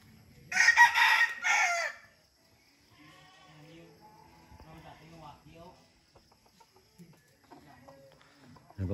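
Gamecock roosters kept at a home crow loudly in two bursts near the start, then soft clucks and other bird calls carry on while someone talks quietly underneath.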